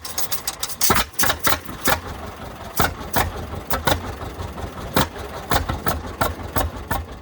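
A John Deere GP tractor engine idles close by, chugging in loud, uneven pulses with sharp firing beats spaced irregularly through a low rumble.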